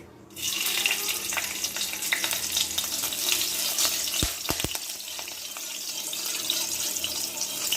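Steady bright crackling sizzle of green chillies and a bay leaf frying in hot oil in a wok, loud and close, with a few sharp clicks partway through; no voices.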